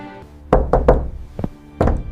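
Knocks on a locked bathroom door in a home: two quick raps, a firmer third, a lighter single tap, then one more knock after a pause, close and sharp with no voices.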